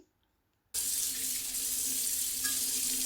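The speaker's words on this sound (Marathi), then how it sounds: "अशा प्रकारे हे धुवून घ्यायचं आहे" Running tap water pours steadily over a heavy cast iron pan as it is washed, starting abruptly after a short silence and continuing as a close, even rush with light clinks.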